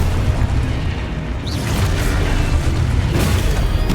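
Confringo fire spell explosions in Hogwarts Legacy sound as steady loud booms and bursts, rolling one into the next over thick game noise.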